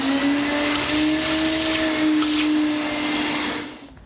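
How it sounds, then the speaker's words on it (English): Shop vacuum drawing sawdust out of a routed mortise in a wooden upright for an umbrella stand, a steady loud whine with a droning hum that runs unbroken for about three and a half seconds before cutting off. "it's a good idea to vac that out and then make another pass to make sure all the material has been removed"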